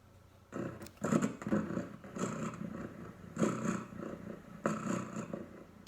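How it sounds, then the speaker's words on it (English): A cat purrs in close, rhythmic rumbling bursts, each swell rising and falling with the breath, repeating about once a second against a quiet background. "If you said it was a cat purring, you are correct"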